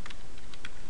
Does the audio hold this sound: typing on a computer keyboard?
yes